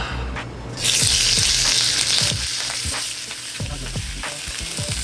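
Sous-vide meat, cooked to around medium, sears in a hot pan with a loud, steady sizzle that jumps in volume after the first second, while occasional low knocks and scrapes from the pan sound beneath it.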